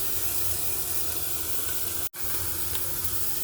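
Onions tossed into a hot pan with no added oil, only the meat's own fat, crackle and hiss in a continuous close sizzle, broken by a brief sharp dropout near the end.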